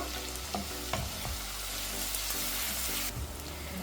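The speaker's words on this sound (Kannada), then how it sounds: "ಈಗ ಬೆಳ್ಳುಳ್ಳಿ ಹಾಕ್ತಾಯಿದ್ದೀನಿ. ಸ್ವಲ್ಪ ಫ್ರೈ ಆಗಲಿ ಇದು" Garlic frying in hot oil for momos filling, a dense steady sizzle close up with a few sharp stirring scrapes and taps of the pan, continuous and alone without voices.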